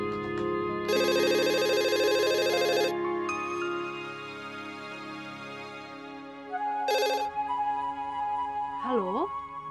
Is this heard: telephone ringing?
yes